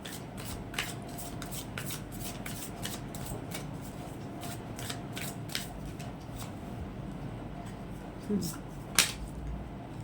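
Tarot cards are handled and drawn from a deck, a quick run of crisp flicks and soft shuffling taps close by, with a slightly louder snap near the end.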